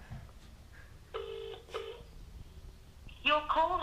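Phone call to a T-Mobile number waiting for pickup, with electronic ringback tones sounding in short bursts, close and clear, as a voice speaks briefly between them.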